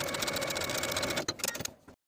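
A sewing machine edge-stitches a blouse casing closed, a fast, close mechanical rattle that runs steadily, then stutters and slows before stopping abruptly.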